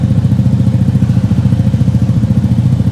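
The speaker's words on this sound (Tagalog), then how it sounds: "So pakinggan natin guys kung paano tumunog ang Vespa 300cc Vespa with single cylinder" Vespa GTV 300, a 300cc single-cylinder scooter, idling with a steady, pulsing exhaust thump, loud and close, running alone throughout with no voices.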